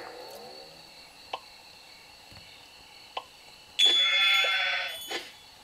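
Cartoonish sheep bleats from the iPad game Leap Sheep HD ring out over soft game music, with a few short clicks and then one loud, drawn-out bleat near the end.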